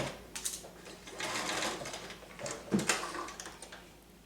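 A Bernina Virtuoso 155 sewing machine stitches a stretch skirt seam, its rapid mechanical whirring running steadily and close up, with brief speed changes and a small clunk partway through.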